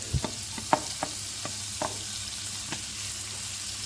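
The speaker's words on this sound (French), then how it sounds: "Et ensuite on va faire ça revenir quelques minutes, maximum 15 minutes, jusqu'à ce que ce soit un peu cuit." Lardons and onions frying in melted butter in a pan: a low steady sizzle with several distinct scrape and tap sounds from stirring, fairly quiet and close, with no talk.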